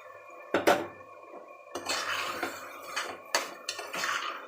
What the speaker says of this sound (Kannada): ನಾನು ಇವಾಗ ಅಕ್ಕಿಯನ್ನು ಹಾಕ್ತೀನಿ